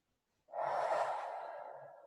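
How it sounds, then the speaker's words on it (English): A single long, soft exhale follows a short silence, close and gentle, trailing off slowly during a guided breathing exercise. "And go ahead and breathe."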